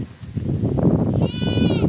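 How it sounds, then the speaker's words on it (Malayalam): A Malabari hornless goat, a young first-time mother with good milk, gives a short bleat late in the clip, heard over a close, busy rumble of handling noise and movement. "പ്രസവിച്ച ഒരു മലബാറി മോഴ ആട് നല്ല പാലുള്ള ആട്"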